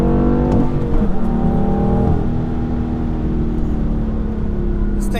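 A BMW F80 M3 accelerates hard along an open road, its engine loud and close with a rising, rumbling drone and a quick shift partway through.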